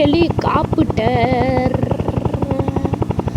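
Loud, steady video game helicopter rotor thumping in rapid, even pulses with a droning engine hum throughout, and a brief voice-like tone near the start.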